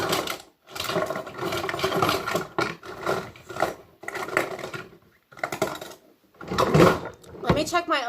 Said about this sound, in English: I gotta fix this drawer.